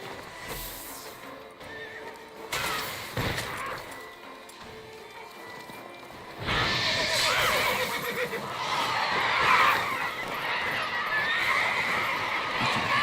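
Roach the horse whinnies and neighs in The Witcher, with loud repeated calls over clip-clopping hooves and rustling ambient game sound.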